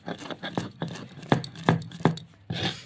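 Mustard seeds and cucumber are ground into a paste without water, a series of evenly spaced, firm grinding strokes about half a second apart that sound close and fairly loud.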